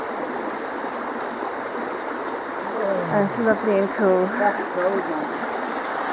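A fast-running stream spills from the mouth of a small cave, a steady broadband rush of flowing water close by, with a person speaking briefly over it midway.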